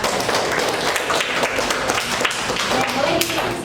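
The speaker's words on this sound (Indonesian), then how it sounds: "tepuk tangan untuk politik dan budaya" Classroom applause during a teaching practice session, a dense burst of many hands clapping together steadily throughout, fairly loud and close, with some voices mixed in.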